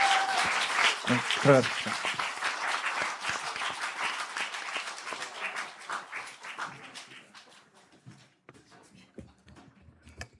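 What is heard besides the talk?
applause from the church congregation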